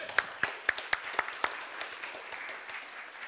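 A small audience at a talk event on degrowth and sustainable business claps for the organizers: a handful of sharp, distinct claps at first, then softer scattered clapping that thins out, moderately close in a quiet room.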